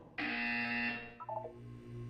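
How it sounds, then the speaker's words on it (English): A single loud electronic buzzer sounds for about a second, a harsh steady tone that cuts off abruptly, followed by a few short beeps and a low hum. "You will hear a buzzer."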